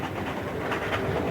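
A railroad train runs steadily with a continuous broad rumble and faint rhythmic clatter, neither near nor distant, with no voices over it.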